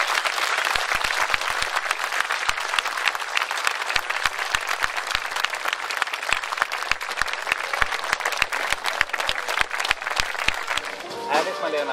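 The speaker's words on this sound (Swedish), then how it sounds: "En stor applåd på vår kommun." An audience at a Sandviken municipal ceremony honouring a new honorary citizen breaks into sustained applause. Dense, energetic clapping runs for the whole stretch before tapering slightly at the end.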